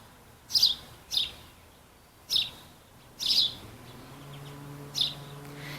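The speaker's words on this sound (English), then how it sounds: "You can hear the mourning doves off in the distance and all of the sparrows and goldfinch chirping." Sparrows and goldfinches at a garden bird feeder give five short, clear chirps spaced about a second apart, mid-distance and fairly soft, over a quiet outdoor background where the distant mourning doves are barely evident.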